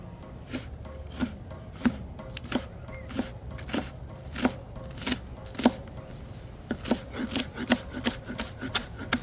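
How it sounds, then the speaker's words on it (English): A knife cuts bacon on a cutting board in sharp, evenly spaced chops, roughly one or two per second, quickening toward the end, each tap crisp and close. "Now right here I have some bacon, of course, and yeah, I'm gonna cut this."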